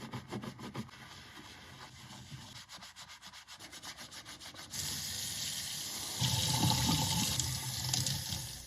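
Nintendo 64 console parts, treated with rust remover, being washed in a sink: rhythmic rubbing and scrubbing strokes give way to running tap water that swells louder and splashes steadily, close and with no voices.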